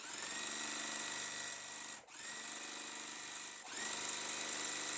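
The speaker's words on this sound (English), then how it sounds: "I'm going to sew it in strips and then I'll cut to the size that I need." An electric sewing machine runs in a steady high-speed whir while stitching fabric strips together, with one brief pause before it continues, close and loud with no talking.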